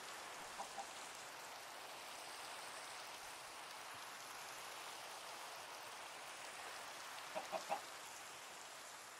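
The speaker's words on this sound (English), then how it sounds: "I got myself a chicken." Minecraft chickens clucking: a couple of short clucks near the start and a quick cluster of three near the end, all faint against a steady, rain-like hiss.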